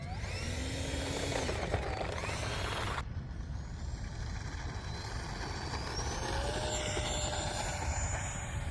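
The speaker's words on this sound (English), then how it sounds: "let me take off into the wind, which is now coming at my back" A Freewing 64mm EDF F-16 model jet taking off, a continuous loud whining ducted-fan roar with rising and falling pitch sweeps, the tone shifting sharply partway through, with no talk.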